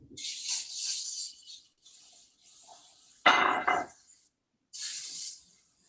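Several soft hissing bursts of cooking spray into a bowl, with a short loud rattling shake of the can in the middle, close by and without talk.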